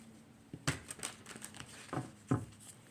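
A deck of tarot cards being shuffled by hand in a quiet room: a few soft, brief crinkling riffles and flicks spaced irregularly over a few seconds, faint and close.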